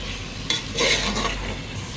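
Chicken with masala sizzles and fries in a pot as a utensil stirs and scrapes through it in a few short, close strokes.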